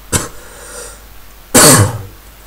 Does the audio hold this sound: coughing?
yes